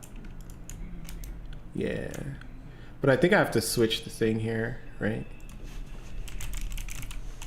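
Typing on a computer with a Japanese keyboard, soft rapid key clicks running steadily beneath a nearby voice that talks over most of the stretch.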